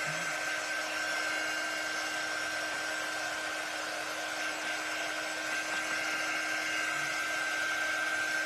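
A hair dryer drying a layered butterfly decor transfer: a steady, continuous blowing whir with a constant high whine, running close and unbroken throughout.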